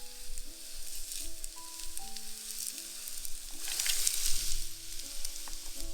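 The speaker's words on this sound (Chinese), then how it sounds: "炒到变软、变透明即可。" Vegetables sizzle steadily in a hot pan as they are stir-fried until soft and translucent for a French-style vegan pumpkin soup, with a light, close frying crackle and occasional scraping stirs.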